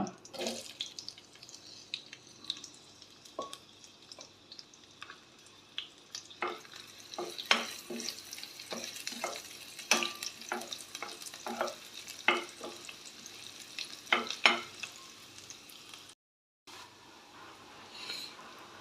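Chopped onion pieces frying in butter with tempering seeds in a pan while a spoon stirs and scrapes repeatedly, giving steady soft sizzling broken by sharp clinks and taps, close by, with a brief silence near the end.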